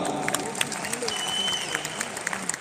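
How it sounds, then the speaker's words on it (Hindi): A crowd at a company event in Indira Gandhi Stadium, New Delhi, applauds the team with steady clapping, while a voice talks over the clapping throughout. "मेरी लवली टीम के लिए एक बार जोरदार तालियां"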